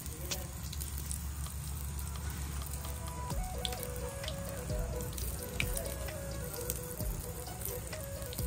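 Water is poured into sel roti batter to thin it, a steady running, splashing trickle that continues close and fairly soft throughout.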